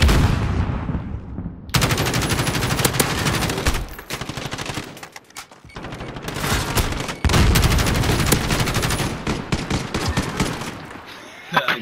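Gunfire in a video game match: sustained, loud bursts of rapid shots with brief pauses between volleys, close and dominant, with occasional voices mixed in.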